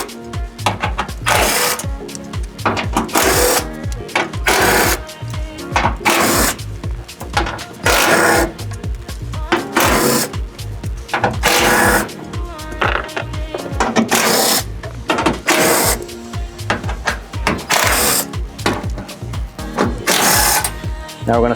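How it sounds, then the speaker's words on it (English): A ratchet socket wrench backing 10mm bolts out of the fascia plate on a Tesla Cybertruck, heard as loud, repeated bursts of rapid clicking separated by short pauses, with no talking. "we're going to take off 12 10mm bolts."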